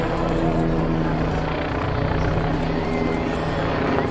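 A helicopter flies overhead as a skydiver jumps from it, its rotor and engine noise a loud, steady drone with a faint rhythmic beat throughout.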